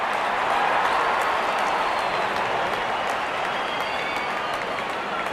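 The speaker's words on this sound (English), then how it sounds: "gets a grand applause" A large stadium crowd at an IPL cricket match between SRH and KKR applauds continuously for a batter's fifty, a dense, even wash of clapping and cheering from a big open venue, with a faint voice underneath.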